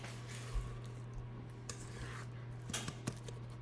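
A spatula scrapes apple cider doughnut batter down the sides of a mixer bowl, giving faint, scattered soft scrapes and wet squishing taps over a steady low electrical hum.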